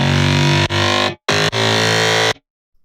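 Growl synth patch built on the Modern Talking wavetable, heard as loud, buzzy sustained notes in three short bursts with sharp cuts between them, ending in silence.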